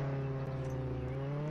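A car engine holds a steady, loud idle-to-rev drone with strong low harmonics, slightly rising in pitch as it pulls away, close by with no talk.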